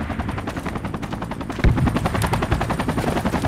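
Sustained automatic gunfire in the Project Reality infantry combat game, rapid rhythmic bursts with a heavier crack partway through and a steady background din, no talk over it.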